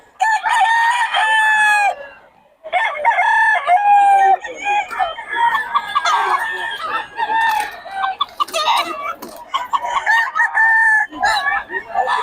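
Several chickens at a poultry sale cluck and crow loudly and close by, in overlapping bursts, with one rooster's crow standing out near the start.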